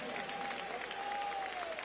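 A church congregation applauds in worship, a steady wash of hand claps throughout with a voice or tone held faintly beneath.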